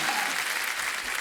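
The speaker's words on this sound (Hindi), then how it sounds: "तालियां बनती हैं इनकी विटनेस पे।" Audience applause at a star-cast event for the film Navra Maza Navsacha 2, a short dense burst of clapping from a crowd, steady and fairly close.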